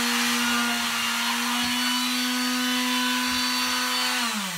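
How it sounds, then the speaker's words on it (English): A power sander roughs up the surface of an acrylic painting, a steady close whine with a constant tone that dips slightly in pitch just before the end. "So the first thing is to sand it, just to rough it up."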